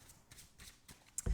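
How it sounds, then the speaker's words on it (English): Tarot cards shuffled by hand during a three-card reading, giving a run of soft, quiet riffling bursts that ends in a louder shuffle or thump, with no talk over it. "Let's keep shuffling a little bit."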